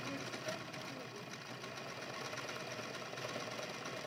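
Faint, steady whirring of a sewing machine stitching along a folded fabric edge, running continuously under a low background hum.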